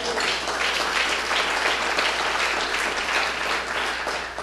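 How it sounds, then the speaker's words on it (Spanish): A church congregation at a Sukkot service claps loudly and continuously, a thick wash of many hands filling the room without pause and no speech over it. "¿Cuántos aplauden su nombre?"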